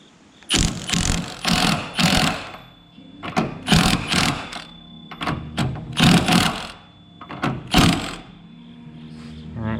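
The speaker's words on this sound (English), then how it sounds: "now I'm gonna break loose this top strut bolt, and then hopefully get this thing out of here" An impact wrench or air tool backs off a car's top strut bolt, giving several loud bursts of rapid mechanical hammering and whirring with short pauses between them.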